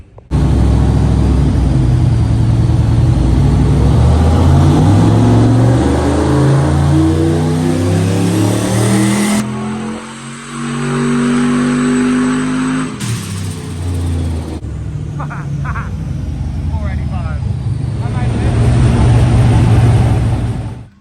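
A turbocharged LS1 stroker engine in a Clubsport car revs hard on a dyno, running loud and continuous through rising and falling throttle sweeps, with a brief drop in the middle before it climbs again.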